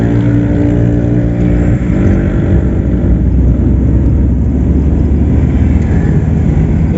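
Steady low engine and road rumble from inside a car climbing an uphill road toward Tretes, with outside traffic noise blending into a continuous loud drone and no talking.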